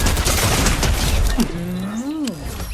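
Gunfire in Fortnite, with a rapid run of shots filling the first half before a tonal, swooping game sound takes over.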